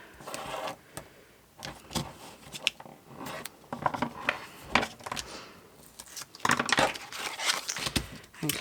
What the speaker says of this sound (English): I'm going to run some tape down here